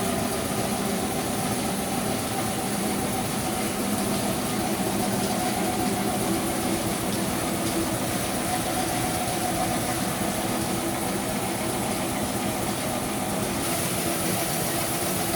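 An air compressor supplying an automatic industrial plasma cutting machine runs in a constant, even drone with a steady motor hum and hiss, unchanging and close throughout.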